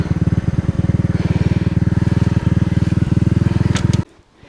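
An Alpha moped engine idles with a steady, rapid putter while the bike sits stuck in a rut on a rough rural dirt road. It runs loud and close for about four seconds, then cuts off abruptly, leaving near silence.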